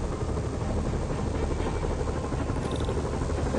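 A helicopter in a PS4 video game drones steadily nearby, its rotor throbbing in a continuous loud beat with no voices.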